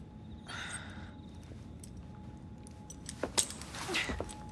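Keys jingle as they are handed over in Assassin's Creed Syndicate, a few light metallic clinks rising toward the end over a steady low ambient hum, with no voices.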